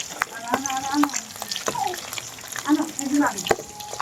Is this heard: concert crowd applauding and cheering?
no